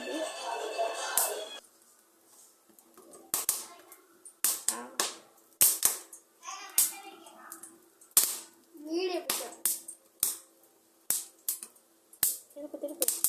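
Corn cobs roasting on a stove give off sharp, loud cracks and pops, heard close in an irregular run of single snaps and quick clusters, with voices talking now and then.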